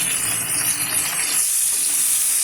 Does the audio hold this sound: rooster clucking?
no